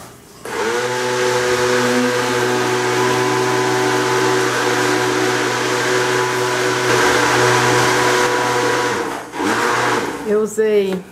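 A blender whirs steadily while mixing homemade mayonnaise made with eggs and soybean oil, a loud sustained motor drone that stops near the end, followed by a brief clatter and a voice.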